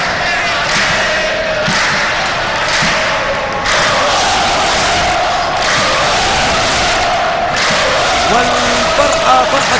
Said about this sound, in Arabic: والفرحة فرحة الجمهور.